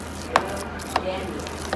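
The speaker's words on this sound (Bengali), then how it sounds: "আর মাছ ভর্তার জন্য মাছ ভাজা হচ্ছে।" Fish fries in a pan for a mashed fish dish, giving a soft, steady sizzle broken by a few quick clicks of stirring or scraping, with no talking.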